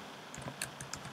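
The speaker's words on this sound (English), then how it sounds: "You just simply type a sudo" Quick keystrokes on a computer keyboard while entering a terminal command, a short run of about six or seven crisp, close, fairly quiet clicks with no talk.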